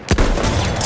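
Rapid machine gun fire in the World War I shooter Battlefield 1, a loud close burst of dense, overlapping shots lasting about a second.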